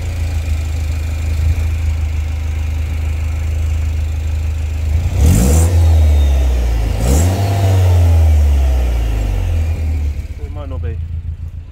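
A Citroen DS3 Performance fitted with a Cobra decat exhaust idles loudly, then revs up twice in quick rising sweeps before settling back to a rumbling idle close by.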